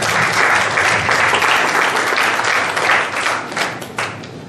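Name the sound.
audience applause at an Islamic dakwah program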